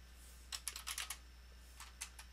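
Quick bursts of typing on a computer keyboard as form data is entered, two short runs of crisp key clicks separated by a brief pause, close and fairly quiet.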